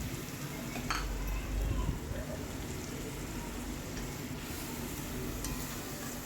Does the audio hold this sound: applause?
no